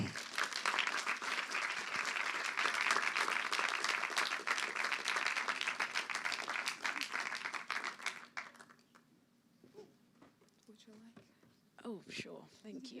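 Summit audience at a green games awards event bursts into dense applause for about eight seconds before it dies away, leaving scattered claps and a few voices talking near the end.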